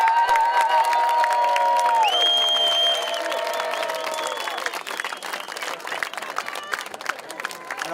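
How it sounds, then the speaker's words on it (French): Crowd applause and cheering at an outdoor arrival event in the Basque Country, mixed with whistles and shouts, starting loud and easing into ongoing clapping. "Il est là, vous pouvez l'applaudir."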